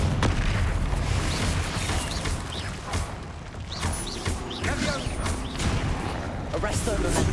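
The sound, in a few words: Confringo blasting curse in the video game Hogwarts Legacy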